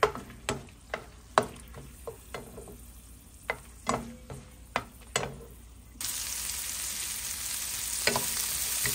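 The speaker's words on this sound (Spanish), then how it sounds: "vamos a dorar también estos chilitos aquí en este aceitito" Small chilies frying in a shallow layer of oil, with scattered clicks and light pops over a low background, then a steady louder sizzle taking over in the last few seconds.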